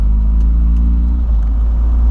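Alcohol-fueled Volkswagen Voyage with an AP engine idling or cruising on a street, a steady low rumble close to the microphone with a faint harmonic hum, no talking.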